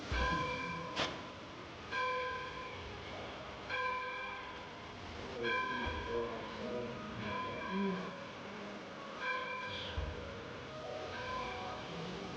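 A train passes in the Southern California desert, its horn sounding in repeated long blasts over a steady rumble of rolling cars, fairly loud and with no talk.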